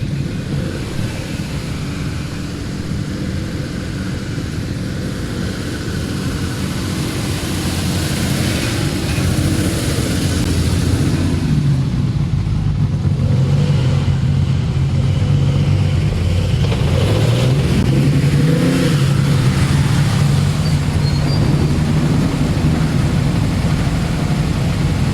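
A De Tomaso Pantera rally car at a mountain special stage of the Tour Auto runs as a loud continuous engine drone, its pitch climbing and wavering as it pulls away, with no talk over it.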